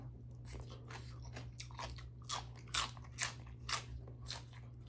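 Close crunchy chewing of Thai papaya salad (som tam), about five distinct crisp bites spaced roughly half a second apart over a low steady hum, with no talk.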